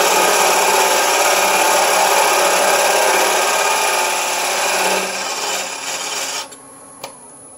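A woodturning lathe cutting wood for a honey dipper: a loud, steady, close scraping hiss of the tool against spinning wood that eases off near the end, followed by a brief click, with no talk.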